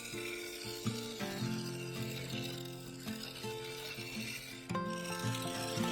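A bowl gouge cutting a walnut bowl on a wood lathe, a steady rasping scrape over the hum of the spinning lathe, with brief catches and tonal ringing.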